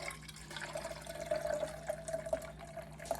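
Hard seltzer pours over ice into a glass for an island coffee drink, a soft steady trickle and fizz running for a few seconds, close but quiet, with no voices.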